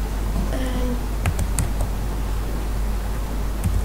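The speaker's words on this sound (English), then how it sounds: "So you'll again type cd" A few scattered keystrokes on a computer keyboard while a terminal command is entered, faint clicks over a steady background hiss and fan-like hum.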